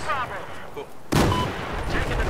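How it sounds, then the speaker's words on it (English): A big in-game explosion in Battlefield 4 on the Lost Islands map erupts suddenly as a loud, close boom that rolls on into a sustained rumble, cutting across faint background game sound. "Whoa, that was a big explosion."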